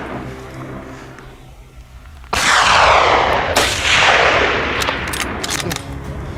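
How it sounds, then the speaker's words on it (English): Rifle shots fired during a wild boar hunt, a sudden loud crack followed by a long rolling echo, then a second report and a few quieter sharp bursts as the sound decays. "Once again, there were precise sniper shots."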